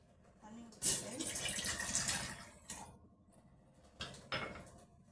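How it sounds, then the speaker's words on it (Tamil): Water poured from a vessel into a pan on a lit kitchen stove before jaggery is added for syrup: a close splashing pour of about two seconds, then two shorter splashes, with low background voices. "தண்ணி ஊற்றிட்டு"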